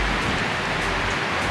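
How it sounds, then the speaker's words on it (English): Steady rain at a Disney theme park, a dense, even hiss of falling drops with no voices. "it's pretty rainy"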